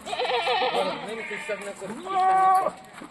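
Kathewadi goats at a goat sale bleating in a few wavering, nasal calls, close by, with someone talking over them.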